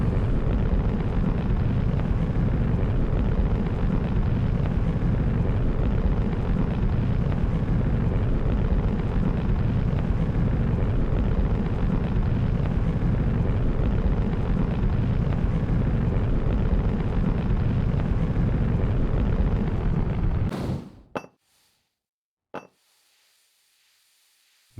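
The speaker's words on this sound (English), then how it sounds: "The Infinity Ascender booster has landed on landing zone 1." Roaring, steady rocket thunder from the Infinity Ascender booster coming down onto landing zone 1, loud and continuous for about twenty seconds, then cutting off abruptly into near silence with a couple of brief clicks.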